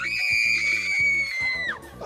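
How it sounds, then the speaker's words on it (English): A man lets out a single loud, sustained scream on cue for a comedy TV show gag, holding steady for nearly two seconds before breaking off, alone and close. "Just give us your best scream there."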